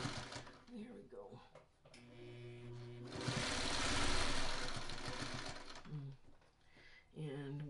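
A sewing machine stitches quilt blocks for a Hot Cross Buns pattern with a steady mechanical whir that runs for several seconds in the middle, while a person talks before and after it.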